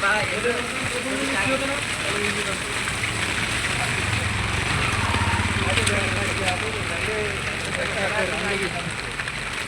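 Rain falls steadily in Sajek, a dense continuous patter on surfaces close by, with a person talking faintly over the downpour.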